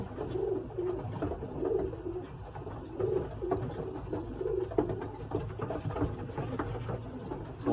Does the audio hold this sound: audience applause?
no